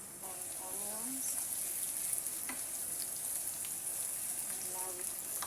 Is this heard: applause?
no